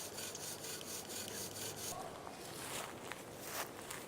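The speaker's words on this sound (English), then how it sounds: "3 unsuccessful attempts at the bow drill fire using the materials in the Everglades" Rhythmic wooden scraping and grinding, a bow drill spinning back and forth against wood in steady strokes in the Florida Everglades, close and moderately loud.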